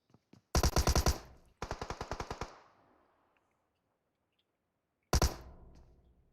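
Rapid automatic gunfire in a tactical shooter video game comes in two close bursts of loud, evenly spaced shots that trail into a fading echo, followed by a short silence and a third burst.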